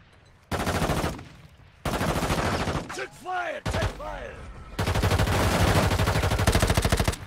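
A legendary gun in Warzone Mobile firing in long, loud automatic bursts, close up with sharp stops between strings, and a voice calling out in a short gap.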